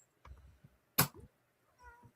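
A few short meows spread across a couple of seconds, fairly close, with quiet pauses in between.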